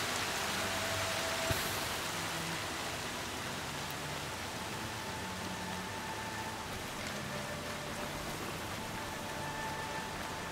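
Steady rain in the video game Horizon Zero Dawn, a dense even hiss of falling water running unbroken throughout, with faint in-game tones and no talking.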